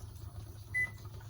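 A single short electronic timer beep sounds during tomato pressure canning, quiet and brief over a low steady background hum.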